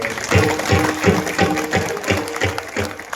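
Audience clapping at a village kirtan devotional gathering, a rhythmic series of loud hand claps in bursts about every third of a second, close and dense, with no voices over it.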